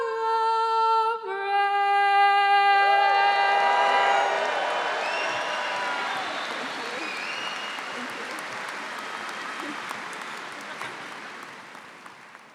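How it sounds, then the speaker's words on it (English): At the end of the national anthem at a university engineering spring graduation, the soloist's final sustained note gives way to swelling applause and cheering from a large crowd, fading gradually over ten seconds. "Let's give another round of applause to our soloist"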